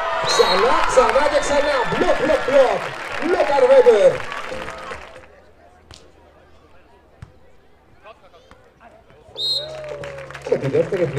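Applause and crowd cheering at the finals of a beach volleyball tournament in Rhodes, loud and dense at first and then fading to near quiet. A second burst rises at the end.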